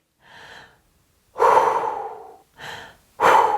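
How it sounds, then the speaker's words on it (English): Deep breaths drawn in for singing, four close breath sounds in sequence, two softer and two loud, full inhalations separated by short silences. "Make sure you're taking a deep breath."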